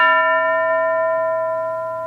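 A single bell strikes once in a school setting and rings on with a bright, sustained metallic tone that slowly fades over about two seconds, heard alone with no talk.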